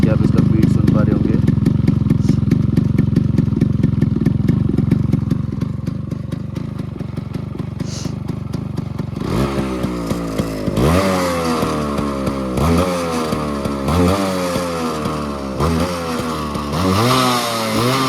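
A stock Yamaha RX 135 motorcycle engine idles with a steady beat, then revs in repeated rising bursts, loud and close, with a person's voice partly over it.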